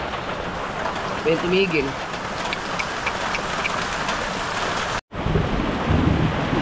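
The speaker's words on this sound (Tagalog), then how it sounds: "mukhang ang lakas ng ulan" Heavy rain pours down as a steady, dense hiss that fills the whole stretch at an even level, with faint voices heard briefly underneath.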